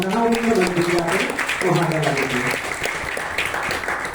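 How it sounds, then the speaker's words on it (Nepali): A hall audience claps loudly and steadily for the whole stretch, a dense wash of applause, while a voice speaks over the start of it. "जोरदार ताली कुण्डु सरका लागि"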